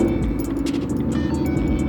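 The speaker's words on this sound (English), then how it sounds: "Turn the key off and then start the vehicle." Ford Mustang 5.0 V8 engine running steadily just after starting, a close, loud, even rumble with no talk.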